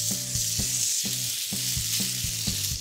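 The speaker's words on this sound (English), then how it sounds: "we're gonna heat up just the beef" Beef sizzling loudly on a hot teppanyaki pan, a constant bright hiss punctuated by regular rhythmic clanks of a spatula roughly twice a second.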